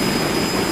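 A jet engine runs steadily and loudly, a dense continuous roar with a faint high whine, with no voices over it.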